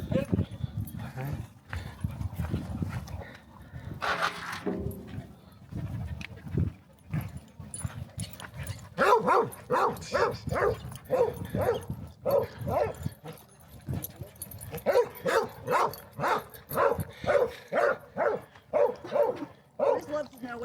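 Several dogs, one of them black, play with a ball at a social gathering, barking in a run of rhythmic bursts during the second half, with yips and whimpers mixed in and people talking throughout.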